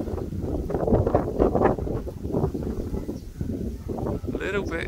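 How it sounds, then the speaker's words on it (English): Gusty outdoor wind buffets the microphone beside a homemade wind turbine, a loud rumbling roar that swells and dips in uneven gusts, close and continuous with no talk. "the wind direction is moving quite a bit"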